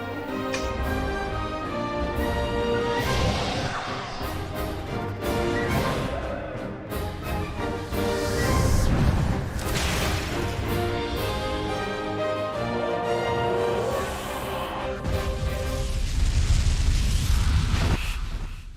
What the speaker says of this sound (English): Let's finish him off in style with Selene's special attack.